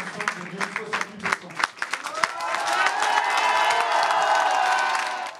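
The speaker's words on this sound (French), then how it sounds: "Des applaudissements pour accueillir la victoire de la liste de Sébastien Clément" A crowd in a hall applauds and cheers the election victory of Sébastien Clément's list in La Riche. Scattered claps and shouts under speech build into sustained, loud cheering and clapping.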